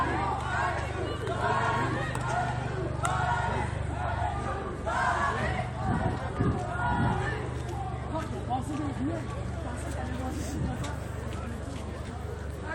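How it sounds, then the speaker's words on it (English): A large crowd of protesters at an anti-austerity street demonstration in Montreal shouts and chants together, a loud, continuous roar of many voices with scattered calls and babble carrying on throughout. "Cries from the crowd asking who does St. Catherine belong to."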